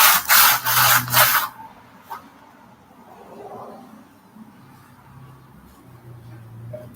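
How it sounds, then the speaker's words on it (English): Several quick, loud rasping scrubs as silver paint is scrubbed off a homemade shield, then quieter faint rubbing with low background hum. "you gotta put your elbow grease into it whenever scrubbing it off"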